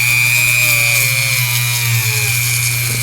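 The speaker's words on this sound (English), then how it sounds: "getting it sanded out like that and getting the whole slick kind of smoothed out" A steady, loud whining grind of a power sander working over the rubber of a drag slick tire, continuous and close with a constant tone throughout, no talking.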